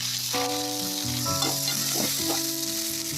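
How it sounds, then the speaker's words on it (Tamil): Oil sizzles steadily in a pan as green chilies and onions are sautéed, with a constant frying hiss beneath a musical tone in the background. "கடாயில் ரெண்டு ஸ்பூன் எண்ணெய் விட்டுக்குவோம் இதை எல்லாத்தையும் கட் பண்ணி வதக்கிக்குவோம்"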